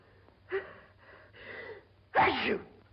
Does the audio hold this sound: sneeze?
yes